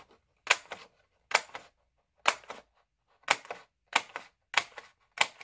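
Scissors cutting paper ephemera in a quiet room, seven crisp snips close to the microphone, each a sharp double-edged crunch with short pauses between, no talking.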